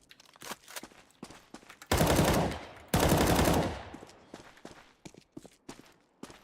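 Loud bursts of automatic rifle fire in Counter-Strike on the map Cache, aimed at barred windows that bullets cannot pass through; two sustained volleys stand out between softer footsteps and scattered single shots.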